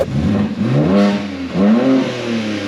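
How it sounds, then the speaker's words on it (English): A BMW G80 M3 engine revs loudly and steadily on a city street, its pitch climbing and falling in two big sweeps, with no voices over it. "we're gonna stop revving it before we get kicked out of here"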